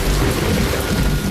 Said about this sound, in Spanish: la humedad cae en forma de lluvia torrencial